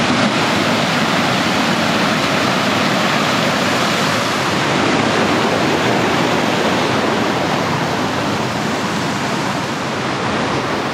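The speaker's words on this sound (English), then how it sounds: "I'm just catching a glimpse of a waterfall up there" A waterfall in heavy rain on Sydney's Northern Beaches roars as a dense, constant wash of falling water, loud and unbroken, with no voices.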